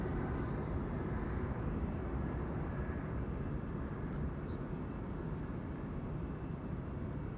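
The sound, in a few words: airplane taking off at Schiphol, Kaagbaan runway 24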